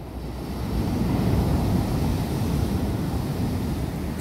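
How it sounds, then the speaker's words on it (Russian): Sea waves wash onto a pebbly beach at a seaside resort, a loud, continuous rushing roar mixed with wind buffeting the microphone, no voices. "Волны такие поднимаются."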